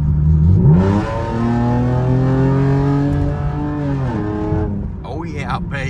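A car engine revs hard through a loud exhaust, climbing and holding at high revs before dropping back, close and powerful, with a voice briefly audible at the end.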